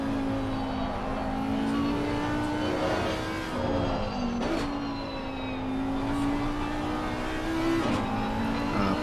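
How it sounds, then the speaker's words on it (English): Race car engines in an Assetto Corsa Competizione replay at Spa, with a Porsche leaving the pits and an Audi on track, a steady droning whine rising and falling as cars run past. "Porsche coming out of the pits, and the Audi is coming around the front corner to get on the hot lap"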